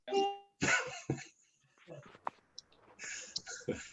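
A dog barks in a home during a virtual meeting, with a few sharp barks at the start followed by faint clicks and soft rustling.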